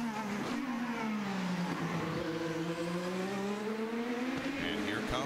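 A 2012 IndyCar race car at the Long Beach street circuit runs at low speed while warming its tires, its steady engine drone slowly rising and falling in pitch. It is faint and somewhat distant throughout.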